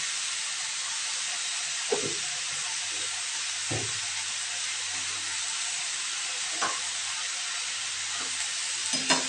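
Kalmi greens stems with turmeric sizzle steadily in a pan under a broad, constant hiss, while a few soft knocks of stirring break through now and then.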